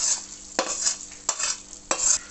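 Spice tempering with asafoetida is stirred into white gongura chutney in about four distinct scraping strokes, close and clear with no talking.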